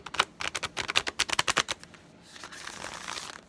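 Tarot cards riffle-shuffled by hand in a rapid run of about a dozen crisp, close snaps. A softer sliding rustle follows as the deck is settled.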